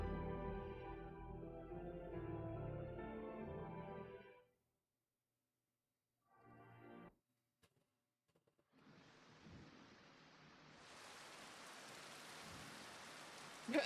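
Rain falls in the video game Final Fantasy XIV as a steady soft hiss that starts after music and a brief silence and grows a little louder toward the end, with no one speaking.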